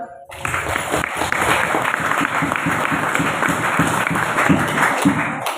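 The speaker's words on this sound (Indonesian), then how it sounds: "Tepuk tangan dong buat abdi dalem." An audience claps loudly and steadily for the abdi dalem helpers at a khitobah speech event at a pesantren, with dense, rhythmic applause that stays at full strength throughout with no talking over it.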